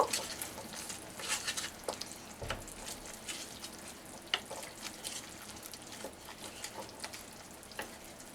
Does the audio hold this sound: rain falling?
no